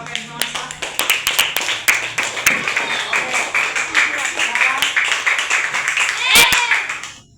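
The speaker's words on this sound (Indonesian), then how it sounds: "Boleh tepuk tangan sama kakek sama Mas?" A primary school classroom applauds, with scattered, uneven hand claps forming a rhythmic patter from a small group. Children's voices and chatter mix in underneath, and a louder burst comes near the end.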